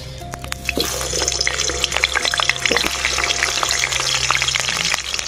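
Potato pieces fry in hot oil for biryani with a dense, close crackle and sizzle, broken by small popping bursts and faint clinks, and no voices.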